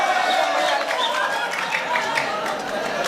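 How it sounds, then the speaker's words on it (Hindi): A mushaira crowd in Malegaon claps and murmurs to welcome the poet Azam Ali Mamnoon, a steady wash of applause and crowd noise throughout. "1 मरतबा तालियों से इस्तकबाल कर दीजिए जनाब आज़म अली ममनून साहब"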